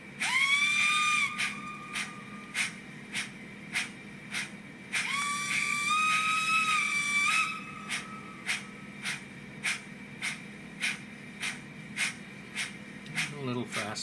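A sound-fitted Rapido Titfield Thunderbolt model locomotive blows two long steady whistle blasts over the rhythmic chuff of its running sound, which carries on in regular beats after the whistle stops.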